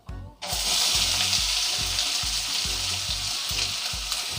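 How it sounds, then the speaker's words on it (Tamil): Long-sliced onions hiss loudly as they fry in oil for groundnut kulambu, a sudden burst of steady sizzle with a regular low scraping knock of stirring repeating about every half second, close and with no talking. "இதில் 2 வெங்காயத்தை இந்த மாதிரி நீளமாக கட் பண்ணி வச்சுருக்கேன். அதையும் இதில் சேர்த்துடலாம்."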